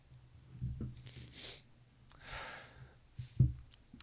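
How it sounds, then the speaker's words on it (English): A person sniffles a few times up close, short breathy nasal intakes spaced apart, with a sharper snort near the end over a quiet background. "I'm sniffling."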